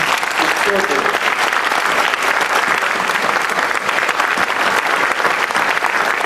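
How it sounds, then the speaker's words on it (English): A Republican party debate audience gives the candidates a loud, sustained round of dense applause that holds steady for several seconds with no break. "would you please give a round of applause to all of our candidates"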